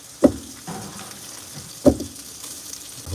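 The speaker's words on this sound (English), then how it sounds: "I hope y'all can hear that sizzle." Sausages sizzle in a frying pan warmed on a stovetop set to 4, giving a steady, close hiss broken by two sharp bursts as pieces drop into the hot fat.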